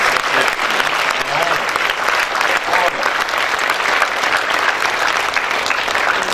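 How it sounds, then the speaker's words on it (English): A large crowd at a school awards day gives loud, sustained applause for the parents, dense clapping that stays strong and even throughout, with murmured voices blended in. "it deserves a round of applause for especially the parents"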